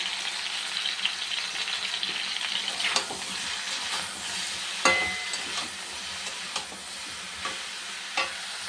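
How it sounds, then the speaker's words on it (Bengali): Vegetables with salt and turmeric fry in a pan, giving a steady close sizzle broken by the scrape and clatter of stirring and a few sharper pops. "সবজিটা ভাজা হোক"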